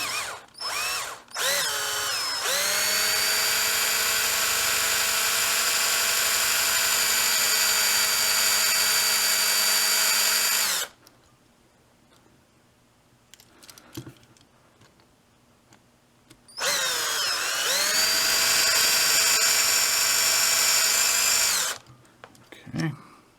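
A power drill works on a Corgi Citroen Safari diecast model, whining loudly and steadily for long stretches. It stops for a quiet gap with small handling clicks, then runs again in a second burst.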